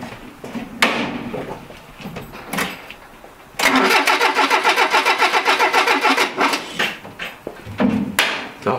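A Renault Trafic van stored for 23 years in a barn cranks with a few short attempts, then the starter grinds in a loud, rapid, rhythmic churning for several seconds before cutting out unevenly.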